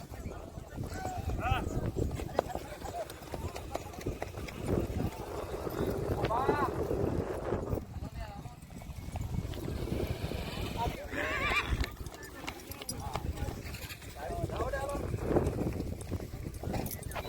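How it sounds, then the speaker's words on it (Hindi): Several horses whinny repeatedly amid clopping hooves and outdoor wind noise at a horse race gathering in Choti Rewal, with people talking throughout in a busy, crowded setting. "सभी घोड़े को गर्म कर रहे हैं अंदर और जबरदस्त घोड़े इकट्ठे हुए हैं।"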